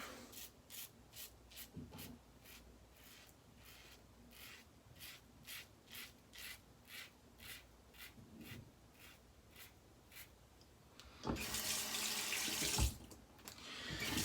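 Tap water runs while a man rinses off between passes of a wet shave with a Gillette Fatboy razor and soap, first a soft repeated rubbing rhythm, then a loud steady gush of water near the end.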